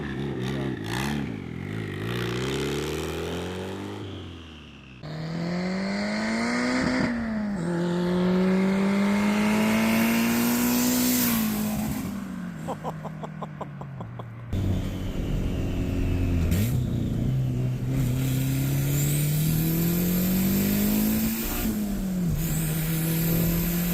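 Turbocharged Honda Civic engine revving hard under acceleration, pitch climbing in repeated sweeps as gears change and VTEC kicks in, loud and close with wind and road roar, no talking.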